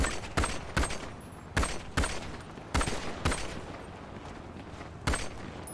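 Repeated sharp gunshots ring out during a GTA NoPixel roleplay shootout, about seven loud cracks spaced irregularly over a steady rumbling background.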